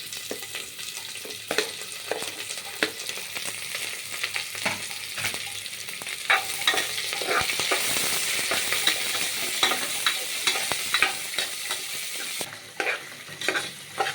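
Onions and green chillies frying in oil for pulao, a steady close sizzle with frequent scraping clicks of a spoon stirring the pan throughout, no voices.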